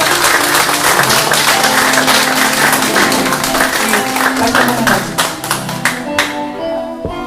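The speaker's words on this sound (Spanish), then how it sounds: "quiero que le demos un fuerte aplauso aquí" Sustained applause from a crowd at a church assembly, dense steady clapping throughout that thins slightly toward the end.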